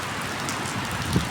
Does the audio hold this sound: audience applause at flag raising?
no